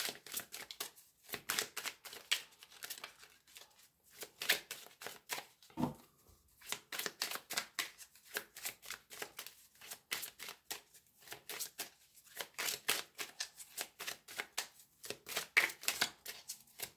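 Oracle cards being shuffled by hand in repeated quick riffling bursts, a steady crisp papery rhythm close up and alone, with one short dull knock midway.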